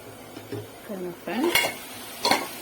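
Carrots frying in oil in a pan, stirred now and then, giving soft sizzling with scraping and clinks of a utensil against the pan in short bursts.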